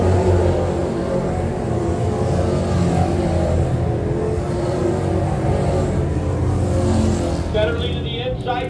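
Pro stock race cars roaring off turn four at Can-Am Speedway on a restart, a dense loud engine drone throughout, with an announcer talking over the noise.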